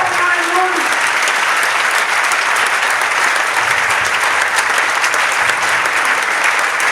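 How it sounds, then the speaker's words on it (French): A worship congregation at a Friday church service in Foundiougne bursts into sustained, dense applause with cheering, loud and even from start to finish. "Encore sous vos acclamations,"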